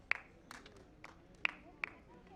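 A few sparse hand claps at a medical conference scientific session, four sharp isolated claps spread irregularly and fairly close, with faint room noise between them.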